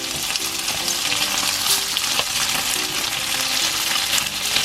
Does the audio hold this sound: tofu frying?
yes